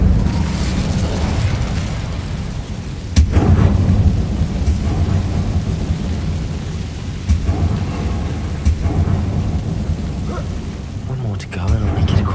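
A fire spell cast in the Hogwarts Legacy video game, a dense roaring rumble that swells sharply around the third second and keeps churning at full loudness, with a few brief bursts later on.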